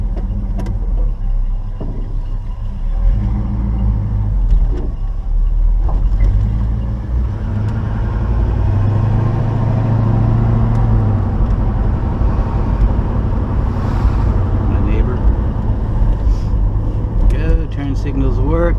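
A 1972 Chevy Nova's engine runs steadily through a test drive, a loud low rumble from inside the car with shifting tones as it pulls away, and a voice talking over it at times.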